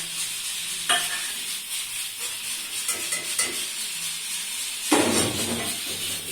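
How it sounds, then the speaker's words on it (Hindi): Butter goes into a pan already holding ghee for sweet sevaiyan, crackling into a steady sizzle, with a few sharp spatula scrapes and clinks as it is stirred close by. "बटर डाल देते हैं।"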